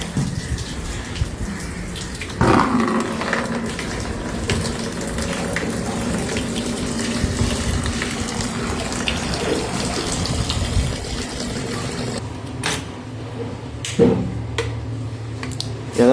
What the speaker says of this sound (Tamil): தண்ணி வர ஆரம்பிச்சிருச்சு.